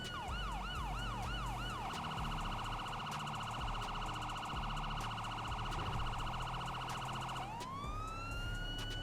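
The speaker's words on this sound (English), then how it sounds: "We'll flip on our sirens for more immersion, right?" Police car sirens in GTA V with the LSPDFR mod run loud and continuous, a rapid warbling yelp that shifts into a long steady electronic tone before rising into a fresh wail, over a low engine rumble.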